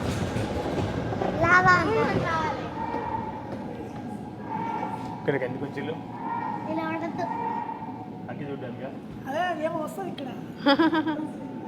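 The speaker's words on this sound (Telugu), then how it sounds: "ట్రైన్ ఆ బొమ్మల పక్క నుంచి పోతా అంటే" A small ride train in a dinosaur park rumbles along steadily with clacking and squeaks, while children and adults talk and call out over it.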